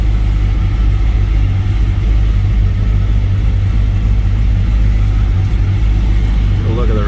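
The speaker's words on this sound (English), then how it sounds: "Listen to this rumble." A deep, steady engine rumble from a restomodded 1955 Chevrolet Bel Air idling loudly up close, low and throaty with a constant pulse throughout.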